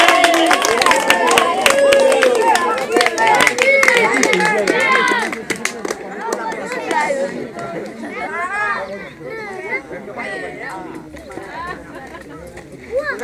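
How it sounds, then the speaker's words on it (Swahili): Audience at a pageant finals event claps and cheers in a burst of applause over crowd chatter, fading into a lively hubbub with some voices talking. "Bado mtapigia wale makofi."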